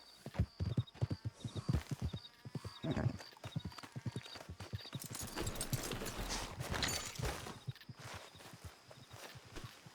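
Horse hooves clip-clop steadily on the ground in the Red Dead Redemption 2 video game, a close, loud run of hoofbeats with an occasional whinny, walking and then breaking into a busier trot.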